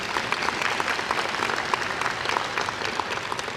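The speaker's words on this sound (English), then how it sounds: "So let's give the Davis family a round of applause as well." Audience applause at a Howard College event, sustained steady clapping from a crowd that fills the whole moment, fairly loud and even with no voices over it.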